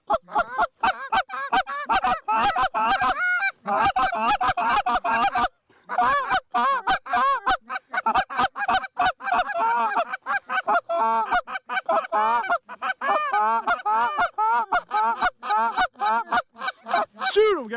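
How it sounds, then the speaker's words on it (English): A dense flock of Canada geese honks loudly and continuously, overlapping calls close by in a rapid, chaotic chorus, during a goose hunt. "There we go, racking up some Canadas"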